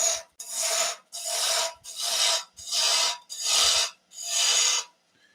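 A spindle or bowl gouge shapes a wooden hummingbird on a lathe. Six evenly spaced, rasping cuts sweep by, each lasting about half a second, with short quiet gaps between them and no voices.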